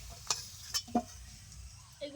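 Turmeric-seasoned food sizzles softly in a frying pan while a utensil scrapes and clicks against it a few times at uneven intervals, close by and without speech.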